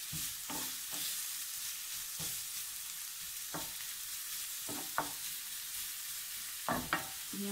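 Vegetables, carrots first, sizzle in a little olive oil in a pan, giving a constant close hiss broken by sharp clicks and scrapes as they are stirred now and then.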